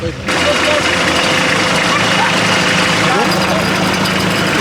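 The engine of a primitive offroad buggy, just a frame, motor and tires, starts up abruptly and then idles loudly and steadily with a rough, throbbing rumble, close by, with voices mixed in.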